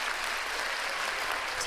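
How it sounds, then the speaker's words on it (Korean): Full, continuous applause from a concert audience, dense and even throughout a short stretch with no voices over it. "정말 뜨거운 박수로 또 함께 해주시면 고맙겠습니다"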